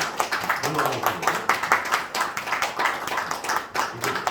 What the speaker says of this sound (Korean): 자, 증정식이 있습니다. 박수!